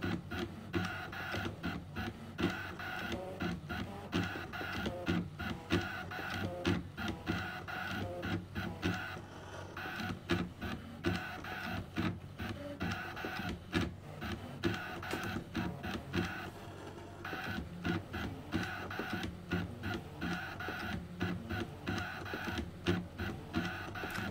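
A Scan N Cut machine fitted with a rotary blade cutting black fabric, giving a steady whirring, clicking mechanical hum with rapid repeating ticks that continue without a break, fairly quiet and close.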